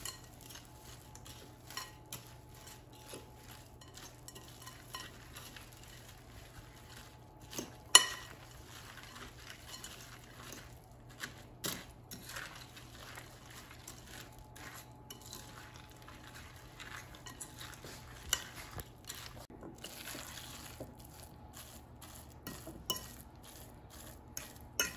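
A spinach ball mixture with breadcrumbs is mixed in a bowl, giving quiet, steady stirring with scattered small clinks of utensil against dish. It stays faint and close throughout, with no talking.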